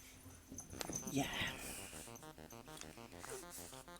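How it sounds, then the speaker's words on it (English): Dogs at home howl and whine together in the background in a wavering, repeated chorus, while a person talks nearby. "I apologise for the singing dogs in the background."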